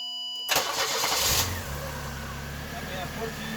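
A 1993 Pontiac Grand Am being checked for alternator output cranks briefly, catches and settles into a steady mid-pitched idle close by, with the running engine continuing to the end.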